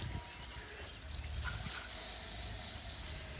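Water from a hose sprays steadily over a filthy Mercedes wheel rim, a continuous hissing gush at moderate distance with no voices.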